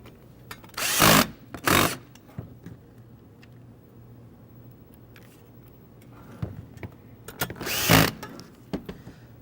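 A power screwdriver drives side screws into a 10ICB motor's back housing during repair, two short whirring bursts early, a quiet stretch with faint handling clicks, then another cluster of buzzing runs near the end.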